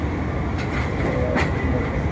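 Shalimar Express train pulling into Karachi Cantt railway station, running about five hours late; a steady, loud rumble of rolling railcars fills the clip with a couple of brief brighter clanks.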